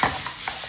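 Pineapple curry is stirred in a pan, a spoon scraping in two or three soft strokes over a faint sizzle, close and brief.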